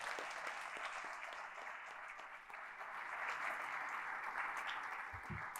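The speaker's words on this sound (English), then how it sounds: "One more round of applause for them for taking the time for that." Audience applause at a Columbus Metropolitan Club forum on sustainable growth, a steady, dense wash of many hands clapping that holds for several seconds, moderately loud and without talk.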